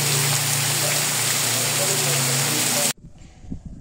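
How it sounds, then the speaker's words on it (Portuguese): Steady rain hiss in the Sítio Pintado countryside of Serra Negra do Norte, a broad continuous wash of drops that cuts off abruptly near the end, leaving faint background sound. "Tem uma chuvinha se aproximando aí, ó."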